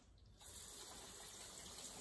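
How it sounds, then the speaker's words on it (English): Cold tap water gushes steadily from a kitchen faucet over noodles being rinsed, a broad continuous splashing that starts abruptly after a brief quiet moment. "Give them a little rinse. Cold water, preferably."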